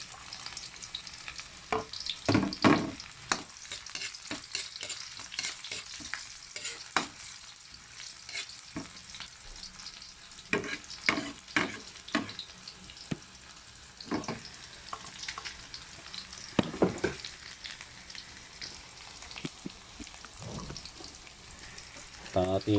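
Onion sautéing in a pan after a little garlic, a steady low sizzle broken by repeated sharp clattering stirs and scrapes of the utensil, moderately close, with occasional faint voices.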